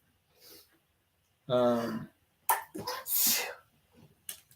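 A few sharp sneezes burst out close by, separated by short breaths and a brief vocal sound.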